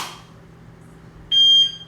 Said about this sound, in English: Start my timer. I hear the first beep.